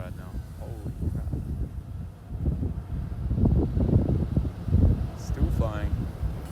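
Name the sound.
strong wind during FPV drone flight in London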